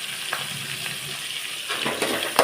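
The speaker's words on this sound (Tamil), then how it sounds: "வெங்காயத்தையும் சோம்பும் போட்டு நல்லா வதக்கிக்கிடுறேன்." Onions and fennel seeds sautéing for a gravy in a pan, a continuous close sizzle with scraping stir strokes toward the end, no talking.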